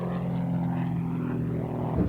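Extra 260 aerobatic propeller airplane, a wood and composite single-seater, droning steadily and fairly loud with no break, a close continuous engine and propeller hum with no one speaking.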